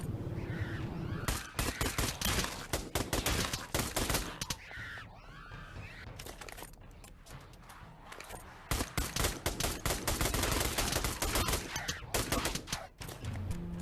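Dual-wielded pistols fire in a VR video game, with dense rapid volleys of loud shots that stop and start, overlapping and echoing throughout.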